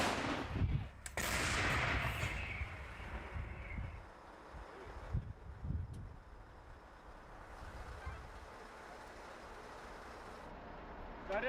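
A Ukrainian Bohdana self-propelled howitzer on a Tatra chassis fires, producing a sharp loud blast followed by a rolling rumble and echoing decay, with further thuds and faint crew voices afterward.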